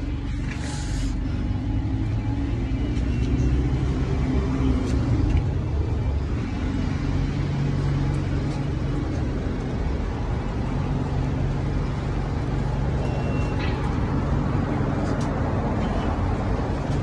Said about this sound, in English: Volvo Wright bus. Here it is